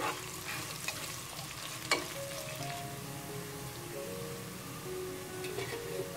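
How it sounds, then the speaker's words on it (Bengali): Half a cup of chopped onion frying in oil for beef biryani, stirred until golden brown: a continuous soft sizzle with scraping stirs and an occasional sharp clack of the spoon against the pan. "এখন আবারও নেড়েচেড়ে এই পেঁয়াজটাকে একটু গোল্ডেন ব্রাউন কালার করে নিচ্ছে।"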